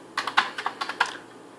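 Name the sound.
typing on Commodore 64C keyboard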